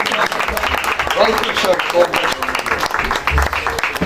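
Crowd applause and clapping from a church congregation roll on steadily for several seconds, mixed with voices and background noise.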